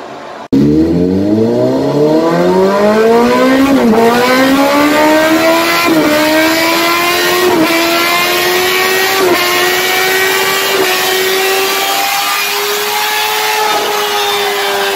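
A T-Rex motorcycle revs on a dyno, its exhaust note climbing steadily in pitch as the engine winds up. The sound is loud, close and continuous, with brief dips at each gear change.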